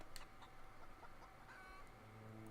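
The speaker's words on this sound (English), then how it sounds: "It's a chicken." A chicken clucks inside The Outer Worlds video game, giving several short, fairly quiet clucks against steady game ambience with no talking.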